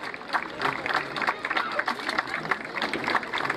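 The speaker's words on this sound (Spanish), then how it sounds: "Ese aplauso se lo ha ganado el jinete y el tropicero" Crowd applause for the rider at a gaucho jineteada rodeo in an outdoor arena, a steady spread of clapping from a mid-distance audience mixed with a voice talking over it.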